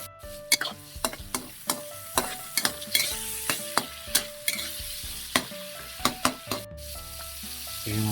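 Onion, garlic and tomato sizzle in hot frying oil for sautéed bitter-gourd leaves, a steady crackling hiss broken by a regular series of sharp spatula taps and clinks against the pan.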